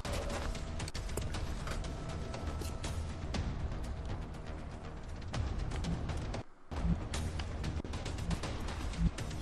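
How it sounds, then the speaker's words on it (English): Gunfire from covering fire in the turn-based strategy game XCOM: Enemy Unknown, a dense run of sharp shots and crackling bursts filling the whole stretch, broken by one brief silent gap before the firing resumes. "Okay, that's covering fire."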